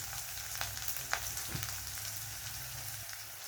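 Dried red chillies, curry leaves and onion sautéing in oil for a Kerala drumstick leaves curry, giving a soft, continuous frying hiss with a few faint stirring taps, steady and close, no talk.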